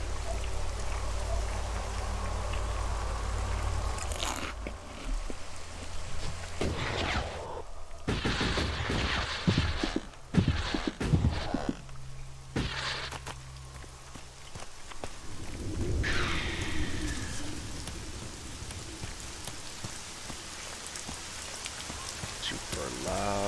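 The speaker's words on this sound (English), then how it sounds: "Super loud rain and wind." Loud, steady rain with wind in the video game ELEX, a broadband wash with scattered sharp impacts and shifting gusts running throughout, a voice briefly audible over it.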